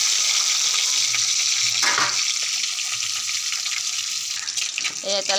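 Boiled eggs coated in turmeric and salt fry in a kadai with a steady broadband sizzle and some watery crackle, a brief louder burst of spattering near the middle, and faint voice traces underneath.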